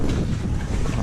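Gusty wind buffets the microphone out on the ice during a winter crappie fishing trip, a brief, dense, low roar with no voices.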